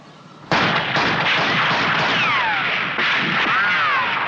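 Soldiers fire a rapid volley of rifle rounds in a Doctor Who scene, sharp loud cracks at a steady pace close up, with whistling ricochet-like streaks and no speech over them.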